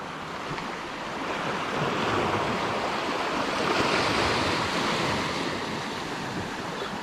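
Surf washes onto the shore in a broad, continuous roar that swells and recedes, with some wind rushing across the microphone.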